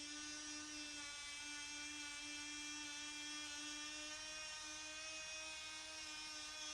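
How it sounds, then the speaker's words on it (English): Cordless tool with a wire wheel scrubbing paint and grime off a Caterpillar D2 bulldozer engine block, a continuous high-pitched whine held steadily throughout, fairly faint and without talk. "I'm using a bunch of wire wheels here on cordless tools"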